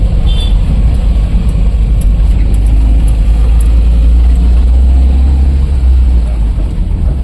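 Tata Ace BS6 petrol pickup runs with a misfiring engine, a loud, heavy low rumble that stays close and continuous throughout, with faint higher ticks above it.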